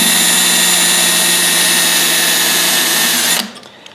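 A power drill runs a left-handed bit counterclockwise into a broken stud on a Toro Recycler lawnmower with a Kohler XT675 engine, whirring steadily and loudly for over three seconds before stopping abruptly.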